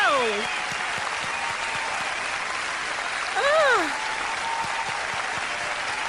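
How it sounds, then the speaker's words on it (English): A concert audience claps and cheers in sustained applause after a performance, loud and steady, with a brief vocal exclamation over it. "I love that you're letting me hear the applause"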